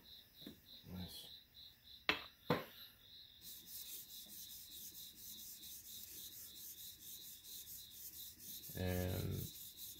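A chisel is drawn across the stone of a TSPROF KO3 sharpener with a universal table, giving quiet, rhythmic scraping strokes, a couple of sharp knocks, then a brief louder rasp near the end.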